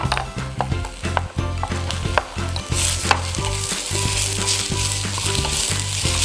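Scallion, cabbage, carrot and fish cake stir-fry loudly in a hot pan for rabokki, with a constant sizzle and repeated scraping and clacking of a utensil tossing the ingredients.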